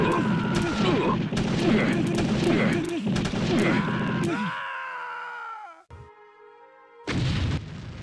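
Mortar fire in the video game Army Men 2: loud, dense booms and blasts that give way to a falling whine and ringing tones, then a final sharp burst.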